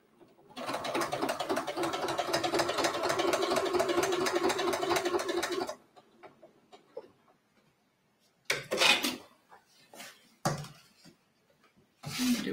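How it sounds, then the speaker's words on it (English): Domestic sewing machine backstitching through Italian leather for a bag: a steady, dense run of rapid mechanical stitching for about five seconds, then a pause broken by a few isolated clicks and short thumps. "I am going to backstitch on this one"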